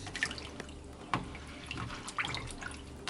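Fresh basil being rinsed under a running kitchen tap, a soft steady trickle of water with a few splashes and drips, fairly quiet and without talking.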